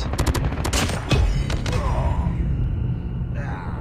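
Rapid gunfire bursts in the mobile shooter Call of Duty Mobile, sharp repeated shots crackling in quick clusters at the start, then heavier blasts and scattered fire over a rumbling game background, with no voice.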